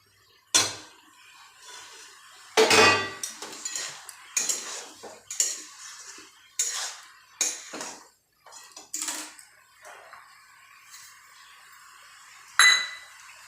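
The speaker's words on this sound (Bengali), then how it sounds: "লাউ থেকে অল্প জল ছেড়েছে, এবার চিংড়িগুলো দিয়ে দেব।" Prawns go into a pan of cooking bottle gourd in a Kolkata-style lau chingri, with a run of close metal clinks and scrapes from a spoon against the pan coming in irregular bursts, no voices.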